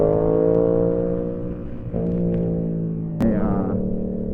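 Yamaha YZF-R7 running an M4 full exhaust system and Flash Tune ECU, giving a loud, close, steady exhaust drone that shifts pitch slightly, with a faint flutter and no popping.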